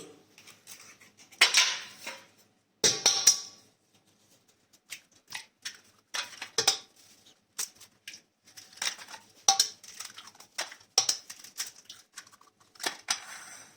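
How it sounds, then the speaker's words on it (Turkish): Several sharp cracks and clinks against a pot, five eggs being broken one after another with short pauses for a carrot walnut cake, close and crisp with no talking. "5 adet yumurtamızı içine kırıyoruz"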